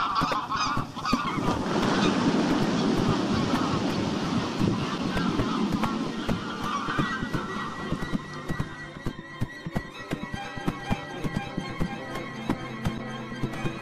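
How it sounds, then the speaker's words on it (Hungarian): Alarmed geese honk on a lake in a busy marsh basin. Many overlapping harsh calls come from a flock at middle distance, over wind noise and a steady wash of water. "A veszélyt elsőként a ludak észlelik."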